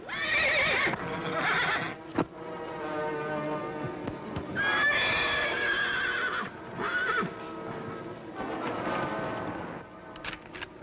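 A horse neighs and whinnies loudly several times in close succession, shrill repeated calls with short pauses between them.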